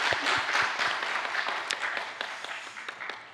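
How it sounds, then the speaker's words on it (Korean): A church congregation applauds the choir, a broad wash of many hands clapping at moderate level, steady for about three seconds with a few louder individual claps standing out as it gradually thins. "박수 한번 보내드리겠습니다."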